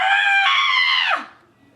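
A person lets out a loud, sustained high scream during a nursing neurological cranial nerve exam, held steady for about a second before cutting off into quiet.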